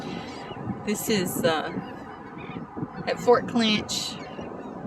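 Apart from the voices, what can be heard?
birds squawking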